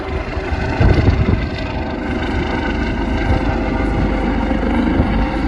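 An Airbus H165 air ambulance helicopter taking off outdoors, with a steady loud engine roar and rotor drone that holds level throughout, plus some wind buffeting on the microphone.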